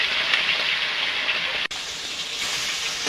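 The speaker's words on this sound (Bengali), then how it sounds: "এবার কড়াইতে মাছ দিয়ে দেবো।" Turmeric-coated fish frying in hot oil in a wok, a steady loud sizzle that hisses continuously, briefly dipping at one point before carrying on as before.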